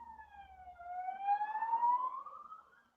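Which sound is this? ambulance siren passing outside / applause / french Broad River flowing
ambulance siren passing outside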